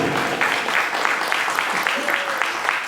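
Audience applause for a vocal ensemble at a district talent concert in Artsyz, a steady dense clapping that pulses in a loose rhythm and carries through the whole stretch.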